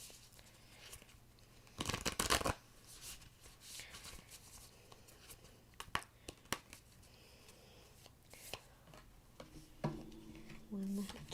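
A deck of tarot cards is shuffled by hand at close range. Bursts of riffling and flicking card noise are scattered among quieter handling sounds, and brief soft tones and a little background noise come near the end.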